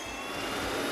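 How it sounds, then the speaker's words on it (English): Twin engines spool up on a rescue helicopter in the video game Search and Rescue 4, giving a steady, full turbine whine and roar that holds constant and fairly loud, with no talking. "Just gotta make sure to start up both engines again."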